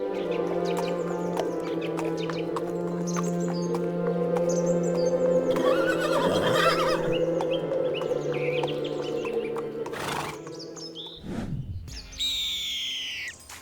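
Wild horses in the American West whinny and neigh over steady outdoor ambience, with birds calling around them and a louder burst near the end.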